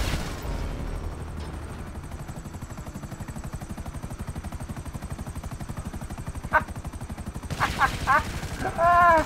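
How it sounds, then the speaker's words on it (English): Helicopter fire and explosions: a rapid, evenly pulsing stream of heavy low thumps, loud and continuous, with a sharper burst near the end and voices briefly breaking in over the last seconds. "they took explosions from the chopper"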